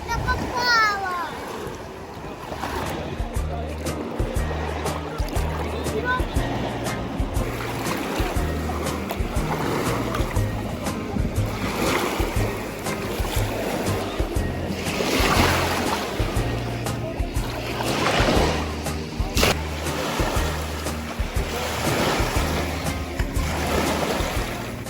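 Sea waves wash steadily onto a beach in Turkey, a constant loud surf roar with wind, while people and children talk nearby throughout.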